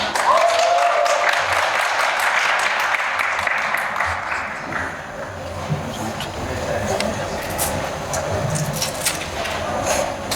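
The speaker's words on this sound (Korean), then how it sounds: "박수로 청해 듣겠습니다" Audience applause at a Korean Hangul Day speech contest, a steady bed of clapping through the whole stretch that fades slightly midway and carries on under a faint background hum.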